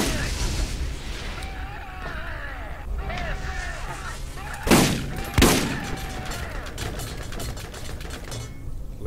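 Turret fire in the Borderlands video game: two sharp, loud bursts close together midway through, set against a busy backdrop of game ambience and chirpy electronic effects.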